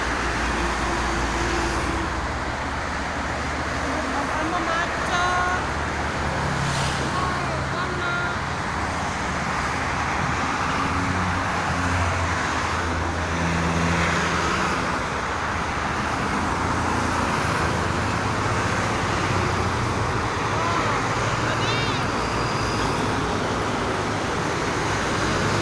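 Busy evening traffic on the Jakarta-Cikampek toll road near dusk in strong wind, a continuous roar of passing cars, buses and trucks, moderately loud and steady throughout.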